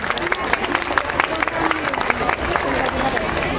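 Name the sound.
applause at school annual day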